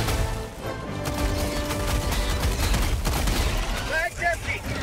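Dense, continuous gunfire from the Helldivers 2 video game, rapid bursts and explosive crashes layered into a loud, unbroken barrage, with a player's voice shouting over the action.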